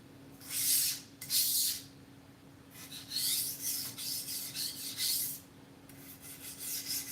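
A bent knife blade scrapes against a sharpener in several rough, rasping strokes, some short and some drawn out, with a faint steady hum underneath.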